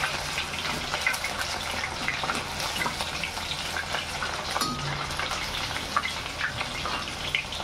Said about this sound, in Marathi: अशीच मी सगळी पनीर तळून घेते